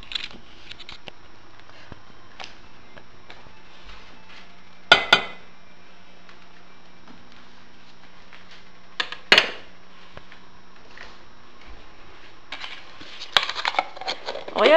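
Butter scooped into a pan in a home kitchen: sparse metallic clinks and scrapes of a utensil against cookware, three sharper clatters standing out over quiet background.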